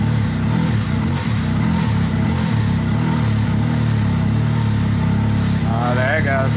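A Polaris RZR Pro running an E85 Stage 5 tune idles with a steady, loud low-frequency engine drone, while people talk over it throughout.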